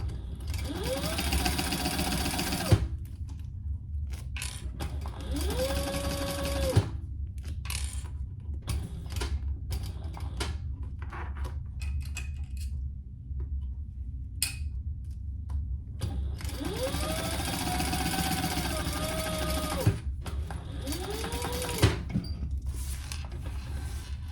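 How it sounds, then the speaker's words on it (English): A sewing machine bastes the bottom edge of a crossbody bag: two long steady runs of whirring stitching, with quieter handling and clicks between them, close and without speech. "you're basically basting that bottom edge closed"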